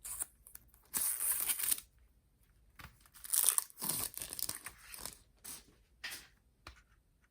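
Plastic wrapping on an AKB48 CD set is torn and crinkled open in several close, sharp bursts with quiet gaps between.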